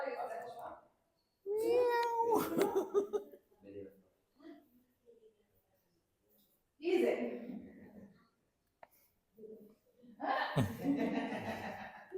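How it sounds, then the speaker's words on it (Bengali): A Persian cat gives several short, close meows between bursts of people talking and chuckling nearby. "বিড়াল"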